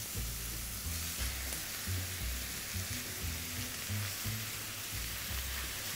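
Ground beef fries in a pan for a tomato beef parmentier, giving a steady, close sizzle that hisses evenly throughout with no voices.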